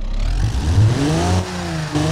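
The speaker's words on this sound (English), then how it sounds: "I can pretty much guarantee you that if you rev your lawnmower, it won't sound like this." A 106-horsepower lawnmower engine in a driving video game revs steadily, a loud continuous mechanical whine with rising and falling pitch sweeps, heard alone.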